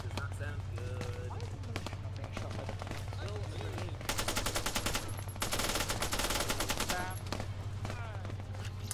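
Automatic and single-shot gunfire from an Arma 3 Zeus co-op firefight, with rapid bursts crackling close by, growing denser in the second half, over a constant low hum with players talking.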